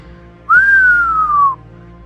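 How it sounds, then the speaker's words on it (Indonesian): A single clear human whistle, one sustained tone lasting about a second that rises slightly and then slowly glides down, loud and close against a quiet background. "Dia mengeluarkan suara bersiul"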